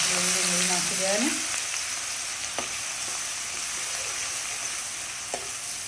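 Onion, cumin, asafoetida and whole spices fry in hot oil in a pan, giving a steady, close sizzle. A stirring scrape comes at the start, then a few small knocks, with a voice faintly present underneath.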